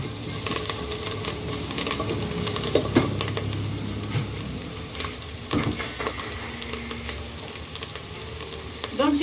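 Onion frying in a pan with spices and salt added, a steady close sizzle and crackle throughout with a few brief stirring clinks, no talk.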